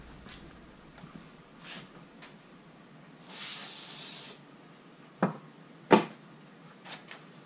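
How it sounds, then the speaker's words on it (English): Short bursts of carburetor choke cleaner sprayed from a can onto a silicon carbide sharpening stone, one sustained hiss of about a second followed by a couple of quick sharp spurts, close and fairly loud against a quiet room. "We hit it with a carbon choke cleaner."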